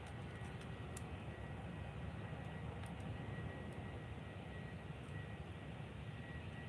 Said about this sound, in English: there is a plane approaching here